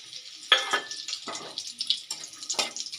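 Bay leaf, cardamom and cinnamon crackle in melted butter in a pan, short bursts of sizzle and spatter rising and fading in uneven spurts, close and fairly quiet.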